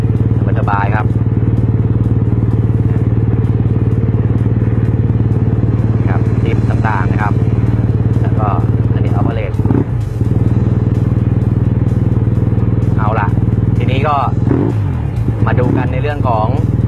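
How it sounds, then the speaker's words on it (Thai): A motorcycle engine idles steadily close by with a low, constant hum, while someone talks intermittently over it. "สตาร์ทเครื่องแล้วนะครับ"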